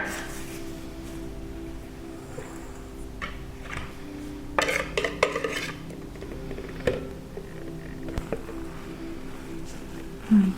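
Liquid filling poured into a kulich starter dough and gently stirred in a bowl: quiet kitchen handling with a few soft clinks and scrapes of utensil against the bowl over a low steady background, no talking.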